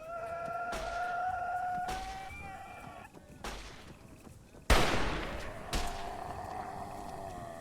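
Gunfire in the Arma 3 video game, several sharp loud shots spaced apart with one especially close, heavy blast, over steady tonal background sound and no talking.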